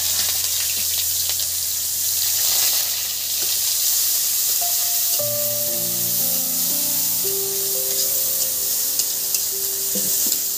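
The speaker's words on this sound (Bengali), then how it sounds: "এবার কুচি কুচি করা যে পেঁয়াজগুলো সেইগুলো আমি দিয়ে দিচ্ছি বন্ধুরা" Chopped onions go into hot oil for a bitter gourd dish, bringing a steady frying sizzle with stirring scrapes; a broad hiss holds throughout, and a few sustained tonal lines enter midway.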